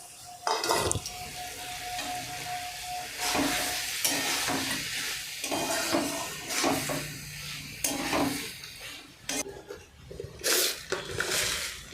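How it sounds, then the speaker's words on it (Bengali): Fried prawns stirred into a sizzling spice masala with Malabar spinach seeds in a pan, a continuous close sizzle broken by repeated spatula scrapes and metallic clatter, with no talking. "এরপর আমি এর উপরে চিংড়ি মাছটি যে ভেজে রেখেছিলাম সেটি দিয়ে দিলাম।"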